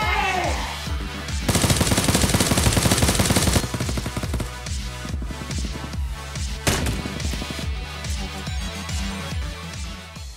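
Rapid bursts of machine-gun fire in a Japanese comedy skit, loud and sustained near the start, then continuing as dense repeated shots with heavy thumps throughout.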